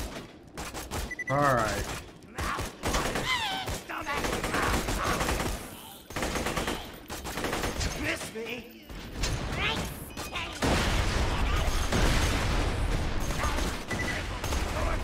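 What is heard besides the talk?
combat rifle gunfire in video game Borderlands 2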